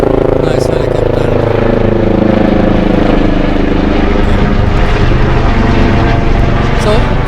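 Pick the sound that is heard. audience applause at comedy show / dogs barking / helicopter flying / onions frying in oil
helicopter flying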